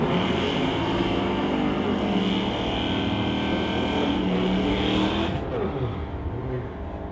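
A 1972 Chevy and a 1973 Chevy drag racing on a street-legal strip roar with loud, sustained engine noise at full throttle, then the sound recedes and drops toward the end.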